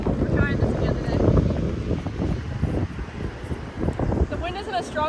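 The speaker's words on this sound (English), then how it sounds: "The wind isn't as strong today" Wind at the beach buffets the microphone with a constant low rumble, with faint bird or child-like chirps briefly audible over it.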